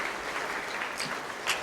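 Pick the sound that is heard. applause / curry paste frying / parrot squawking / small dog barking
applause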